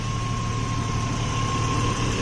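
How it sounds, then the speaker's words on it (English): A 1989 Nissan Maxima engine idles on its own power, a steady, even low hum with a thin whine above it, close and constant with no revving. "It sounds beautiful. It's idling on its own power."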